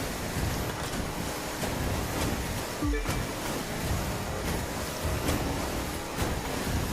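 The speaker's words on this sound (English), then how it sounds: "And here comes the rough waves." Rough water splashing and surging steadily in The Crew 2 racing game, a loud, continuous rush of waves and spray with a brief heavier thud partway through.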